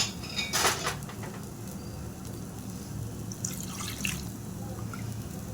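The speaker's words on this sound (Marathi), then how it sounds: "आपण त्यात थोडंसं पाणी टाकू आता बघा" Water poured into frying fish masala, rinsed from a mixer jar in a kitchen, with a brief splash and clatter of the vessel, then a low bubbling simmer and a few clinks.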